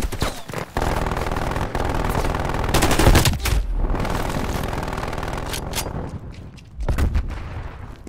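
Enemy gunfire in Call of Duty Black Ops Cold War rattles almost without pause in a dense, loud barrage, with a few sharper cracks standing out near the end.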